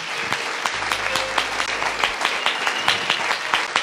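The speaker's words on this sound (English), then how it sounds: "Can you give them a round of applause?" Congregation applause during a church sermon, many people clapping together in a steady, close crackle with distinct individual claps, lasting the whole stretch at even loudness.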